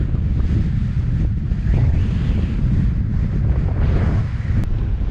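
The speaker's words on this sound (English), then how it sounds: "That wind sure has picked up." Strong wind buffets the microphone in a steady, loud roar near a bridge onto an island, with no talk.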